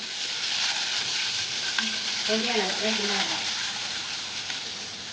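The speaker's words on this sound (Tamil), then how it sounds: "வாசனைக்காகவும் டேஸ்ட்டுக்கு கொடுக்கறதுக்கும் காஞ்ச மிளகாய் நல்லா வதக்கிட்டேன்" Dried red chillies, fennel seeds and curry leaves fry in hot oil with a steady, soft crackling sizzle. A brief low tonal sound surfaces midway, and no one speaks.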